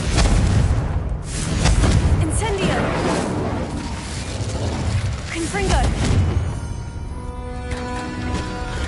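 In the Hogwarts Legacy video game, a rapid series of spell casts sets off explosions, producing dense, booming blasts and clattering magical effects that overlap continuously and stay loud throughout.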